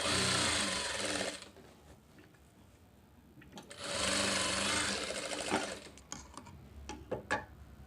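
A sewing machine stitches a katori blouse in two loud, steady runs, stopping in between, followed by scattered clicks and handling noises as the fabric is repositioned.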